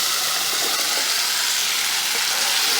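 Tomato juice hits onions frying in a pan, giving a steady, bright hissing sizzle that stays loud and even throughout with no voices.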